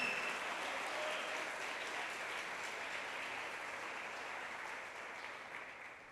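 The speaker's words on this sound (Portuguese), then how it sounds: "dá um forte aplauso a Jesus nessa noite" Worshippers at an evening church service clap in a sustained, even burst of applause that carries on throughout and thins slightly toward the end.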